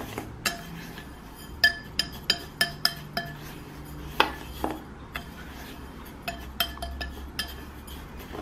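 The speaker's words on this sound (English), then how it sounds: "I'm just going to mix this in slightly so it all blends" A spoon stirs a lavender and rose essential oil blend in a glass jar, giving a string of sharp, close glass clinks at an uneven rhythm over a quiet background.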